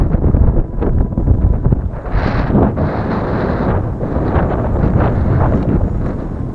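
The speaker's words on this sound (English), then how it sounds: "heat and the wind just sucking the moisture right out of your body" Steady wind blowing across a hot, dry desert viewpoint above a road, a continuous close rushing buffeting the microphone with gusty low rumble throughout.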